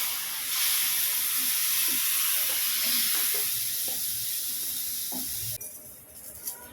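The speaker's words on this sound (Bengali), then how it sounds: "এটা একটু নাড়াচাড়া করি এই ডালের পেস্টটা।" Lentil paste is stirred in a hot pan, giving a broad, hissing sizzle with light scraping that runs steadily, then drops away sharply near the end, leaving a quieter pan.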